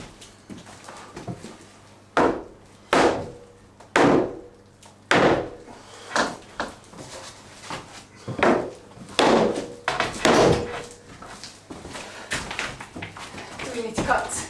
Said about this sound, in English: So we're going to hammer our way now.